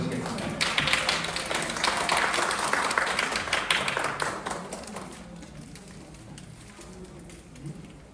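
Audience applause welcoming a university research professor onto a stage at a lecture event: dense, loud clapping filling the opening seconds, then thinning and fading toward the end.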